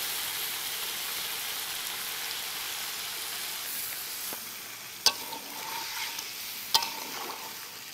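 Water poured into a pan of cauliflower and potato curry for a Bengali katla fish kalia, with a steady sizzle and stirring throughout and two sharp clacks near the end.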